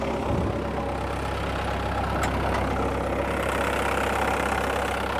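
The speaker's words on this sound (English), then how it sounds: "this great example of a Tier 3 Kubota turbocharged liquid-cooled engine" The Tier 3 Kubota turbocharged liquid-cooled diesel engine of a 2012 Bobcat S175 skid steer idles steadily nearby, a constant low rumble with a faint mechanical knock and a short clunk near the start.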